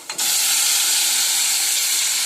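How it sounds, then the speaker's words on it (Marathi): Hot water hits a pan of frying ground-tomato masala with kasuri methi, setting off a sudden loud burst of sizzling steam that settles into a steady, close hiss to the end. "आता टाकूया गरम पाणी।"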